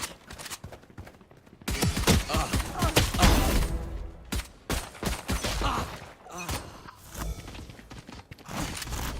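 Video game gunfire crackles in rapid, dense bursts, close and loud, with volleys of shots and impacts stacking over one another and brief pauses between salvos.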